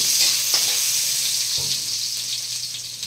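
Ginger sautéing in a pan sizzles loudly and continuously, a close, bright frying hiss with a couple of faint stirring knocks.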